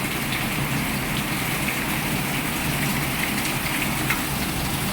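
Steady rain falls outdoors as a dense, even hiss of drops on surfaces, constant and fairly loud with no voices over it.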